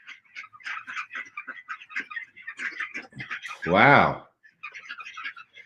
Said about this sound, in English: That's a gaggle of ducks.